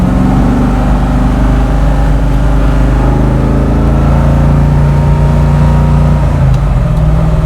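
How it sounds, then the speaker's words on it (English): A 1969 Ford Mustang Fastback restomod with a 347 stroker V8 and 5-speed drones loud and steady from inside the cabin while driving, a deep rumbling exhaust note with slight shifts in pitch throughout. "you got this beautiful V8. Yeah. Making all the good noises through those pipes."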